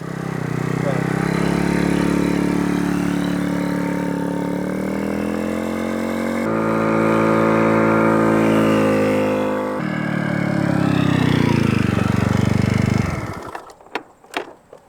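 A 50cc GY6 scooter with a freshly installed big bore kit idles while warming up, a steady buzzing drone that shifts pitch slightly a couple of times before cutting off into a few clattering knocks.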